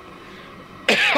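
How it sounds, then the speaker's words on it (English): A person coughs from powerful chili fumes in a kitchen: quiet room tone, then one sudden loud, close harsh cough near the end. "that everybody in the kitchen can't stop coughing"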